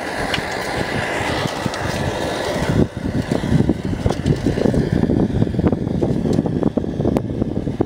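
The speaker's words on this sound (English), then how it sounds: "Wind does seem to like it's kicked up a bit" Wind gusts roar outdoors across an uncovered microphone, a dense, rumbling buffeting that stays loud and steady for the whole stretch with no voices.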